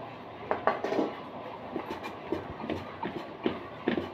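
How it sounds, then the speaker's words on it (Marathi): A metal cup mashes hot cooked chana dal for puran, giving soft irregular clinks and squelchy presses of metal against dal and pot, moderately close and fairly quiet, with no talk. "इथं मी फुलपात्र घेतलं आहे, त्याच्या साहाय्याने डाळ बारीक करते, कारण जरा डाळ गरम आहे."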